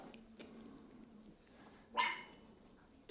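A dog gives a single short bark partway through, clear over a quiet room with a faint low hum in the background.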